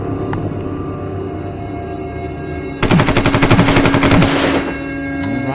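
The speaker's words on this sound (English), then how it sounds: "Let's go ahead and have Doug and his submachine guns thin out the numbers a bit." Video game submachine gun fire in Zombicide Mobile: a rapid burst of automatic shots, about two seconds long, cuts in over a steady droning game background and then stops.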